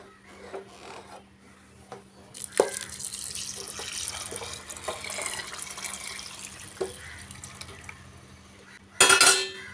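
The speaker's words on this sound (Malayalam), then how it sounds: "ഇനി ചൂടാക്കി വെച്ചിരിക്കുന്ന വെള്ളം മൊത്തത്തിൽ അങ്ങോട്ട് അരിയുടെ മുകളിലോട്ട് ഒഴിച്ചു കൊടുക്കണം." Heated water pours steadily over rice in a pressure cooker for prawn biryani, a continuous close gushing and splashing that runs for several seconds and ends with a brief louder splash.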